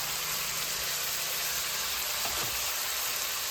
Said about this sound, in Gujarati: તો હવે આપણે નાખી દઈશું આમાં ટમેટા.